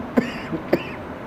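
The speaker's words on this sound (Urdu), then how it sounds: "کھانسی اٹھ رہی ہے" Two short, dry coughs about half a second apart, fairly close, during a quiet pause in a mufti's religious talk.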